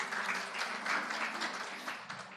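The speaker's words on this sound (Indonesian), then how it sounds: "Berikan tepuk tangan bagi kemuliaan nama." A church congregation applauds during a Sunday worship service, steady dense clapping from many hands filling the room with a gentle swell, a faint voice underneath.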